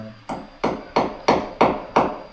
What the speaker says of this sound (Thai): ตอกเล็กตะปูเลยให้มันมีอารมณ์ขันเด้เนาะ ให้ตะปูเข้าไว้ ให้ตะปูเข้าไป